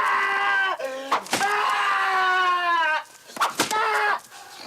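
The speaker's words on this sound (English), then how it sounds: "Don't scream." A person lets out shrill, wavering screams in a dramatic film scene: a long, drawn-out cry, sharp breaks, then further rising wails, loud and close with no other sound.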